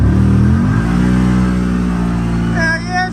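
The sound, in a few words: CFMOTO utility vehicle engine revving under load in low gear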